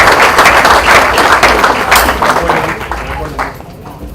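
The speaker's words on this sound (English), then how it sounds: "A big round of applause to Spice for this new initiative." A large crowd applauds loudly and steadily at the inauguration of an institute's new facility, dense clapping that tapers off slightly toward the end.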